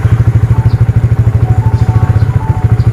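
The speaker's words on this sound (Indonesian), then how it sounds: "Kita coba starter," An older Yamaha Vixion motorcycle engine runs close by after an electric start, a loud, even, rapid thumping idle that holds steady throughout.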